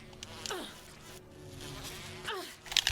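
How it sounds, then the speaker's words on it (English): Buzzing bees in Resident Evil HD, a droning insect hum with swooping pitch bends as they fly close, quiet game ambience underneath and a short clatter at the end. "Oh, fucking bees."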